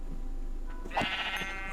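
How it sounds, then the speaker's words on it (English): Sheep in the Minecraft video game bleating once, a short wavering electronic-sounding bleat that rises clearly above a quiet background. "Oh, it's a lucky sheep."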